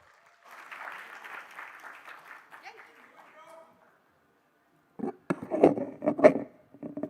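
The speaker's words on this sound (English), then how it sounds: "Let's give him a round of applause." An audience at a JavaScript developer conference in India gives a few seconds of moderate, fairly distant applause, then it stops and people talk.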